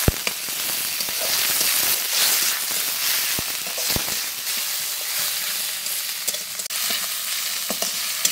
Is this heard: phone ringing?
no